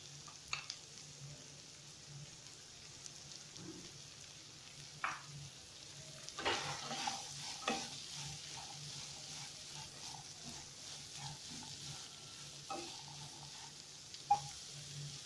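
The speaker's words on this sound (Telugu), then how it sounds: "కట్ చేసి పెట్టుకున్న వెజిటబుల్స్ని యాడ్ చేసుకుందాం." Chopped vegetables for kichidi tumble into a hot pan and sizzle steadily, with scattered clinks and scrapes of stirring over a faint, continuous frying hiss.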